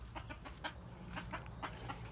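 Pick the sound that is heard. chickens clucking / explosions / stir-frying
chickens clucking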